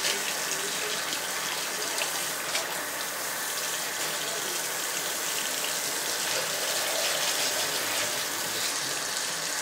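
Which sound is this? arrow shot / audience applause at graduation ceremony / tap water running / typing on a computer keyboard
tap water running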